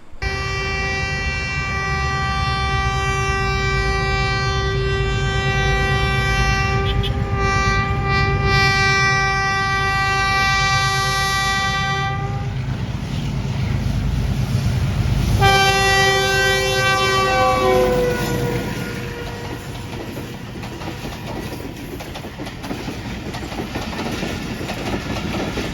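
A train at Ghungrila railway station on the G.T. Road in Pakistan sounds a long, loud two-tone horn blast, then a second blast, over the rumble and clatter of passing cars.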